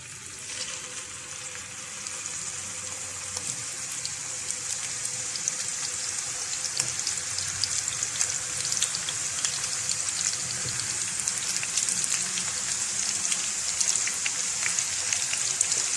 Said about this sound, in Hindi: फ्राई पैन में मैंने ऑयल डाल लिया था और ऑयल गर्म हो चुका है। अब हम इसके अंदर कबाब डाल लेते हैं।